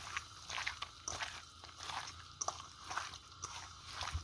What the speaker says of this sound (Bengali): এবারে ভালো করে আমি মাখিয়ে নেব চিকেনটা